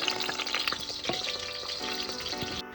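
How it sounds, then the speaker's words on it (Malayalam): Chicken frying in the same oil used earlier for biryani garnishes, a steady close sizzle with crackling pops throughout, no talking. "ഇതേ സെയിം ഓയിൽ തന്നെ കേട്ടോ ചിക്കൻ ഫ്രൈ ചെയ്യുന്നത്."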